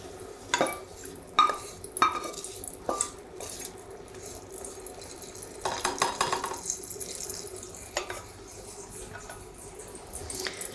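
Grains cooked in butter are strained through a chinois sieve, giving off soft, irregular liquid pattering and scraping taps, quiet and close, with sporadic louder clicks of the sieve against a container.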